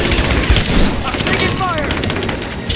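Rise of the Tomb Raider combat gunfire, loud overlapping shots and automatic bursts cracking in quick succession, with a whizzing sound partway through and voices calling out amid the fire.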